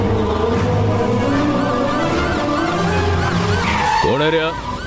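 A car driving fast with its tires skidding, a loud continuous engine roar with a squealing sweep near the end, heard under music and talk.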